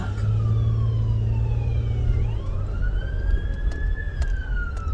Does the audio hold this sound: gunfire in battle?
no